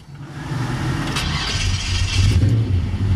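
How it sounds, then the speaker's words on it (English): A 1955 Chevy Bel Air's ZZ4 V8 engine turns over and settles into a loud, steady rumbling idle close by, with no one talking. "We're gonna fire this old girl up and let you hear her run."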